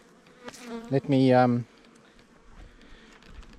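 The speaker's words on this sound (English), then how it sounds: "we're at our beehives" Bees hum around farm beehives in central Portugal, a low, steady buzzing close by, briefly covered by a short spoken phrase.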